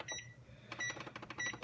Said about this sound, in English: And I'm gonna set the timer